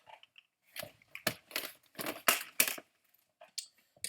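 Fishing line is snipped for a pond fishing rig: a series of close, sharp cutting clicks and snips in irregular bursts against near silence.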